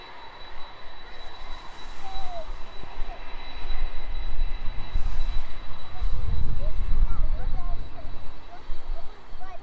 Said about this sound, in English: 767 taxis out